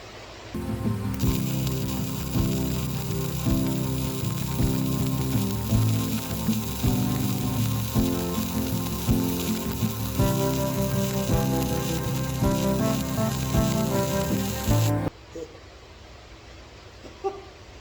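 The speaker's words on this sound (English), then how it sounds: "I don't usually do long beads with this particular welder." A Baileigh MIG welder running a long continuous weld bead gives a loud, steady crackling hiss with a faint electrical hum for about fourteen seconds, then cuts off abruptly.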